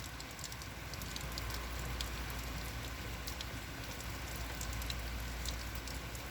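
Heavy rain pouring down in a bad storm, a loud continuous hiss with scattered sharper drop impacts on surfaces and a low steady rumble underneath, unbroken for the whole stretch.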